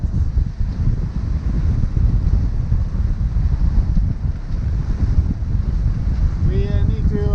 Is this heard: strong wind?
yes